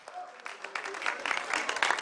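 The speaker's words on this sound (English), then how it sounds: "a round of applause." An audience at a school quiz competition final breaks into applause as a guest is introduced, starting thin and swelling into fuller clapping, with a brief bit of speech near the start.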